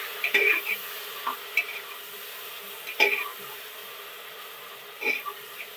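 Tomatoes and masala being stirred in a pressure cooker for soya chunks biryani, with a quiet steady sizzle and a few scraping stirs of a spoon against the pot, alone without talk.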